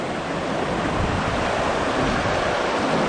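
Water runs steadily through a small Alaskan creek at a gold-prospecting spot with a sluice set up, a close, continuous broadband rush with no pauses and no voices.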